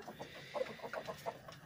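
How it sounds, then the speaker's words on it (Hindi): Several chickens and chicks, recently recovered from a disease outbreak, cluck in short, irregular bursts at moderate distance over a steady background hiss, with no talking. "चिक्स वगैरह या मुर्गियां जितनी भी हैं वो माशाल्लाह से अभी एक्टिव हैं"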